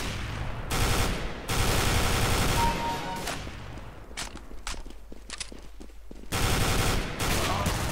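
FAMAS rifle in Counter-Strike: Global Offensive firing loud, rapid bursts separated by short pauses, with a few scattered single shots and clicks in between.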